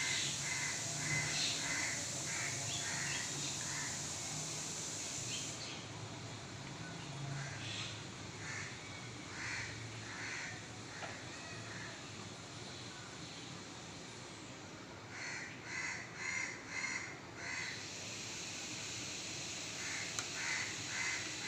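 Crows caw in repeated harsh bursts, with one bird screeching loudly in short clustered calls, over a steady low roar like a distant aircraft, outdoors with no talk.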